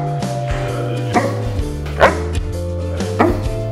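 A Doberman barks several times in irregular bursts, loud and close, over steady background music.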